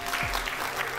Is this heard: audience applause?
yes